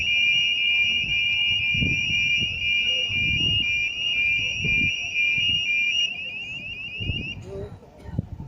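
A steady, high-pitched electronic alarm tone sounds continuously at highway roadworks, then cuts off near the end, with muffled voices and movement underneath.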